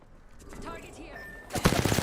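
Gunfire in a video game: after a stretch of quieter game sounds and effects, a sudden close burst of rapid shots crackles through the last half-second.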